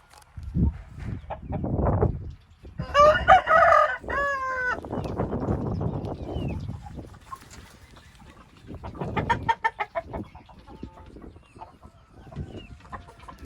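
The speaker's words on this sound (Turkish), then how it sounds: "Evet şu an Pusat Süsek Horoz'la karşı karşıya geldi." An Aseel rooster crows loudly nearby, then clucks and shorter crowing calls follow among chickens, in bursts separated by quieter moments.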